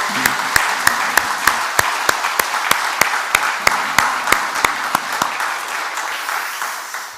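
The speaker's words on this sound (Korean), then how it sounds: "이 박수 소리가 들리죠?" A church congregation claps in unison during an early-morning service, a steady, evenly spaced beat of sharp claps over a roomy wash of scattered clapping, sustained throughout before easing off near the end.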